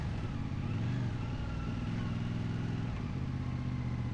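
A CF Moto CLC-450 motorcycle with its stock exhaust idles with a steady, deep, low rumble, close by and continuous, with no other sound over it.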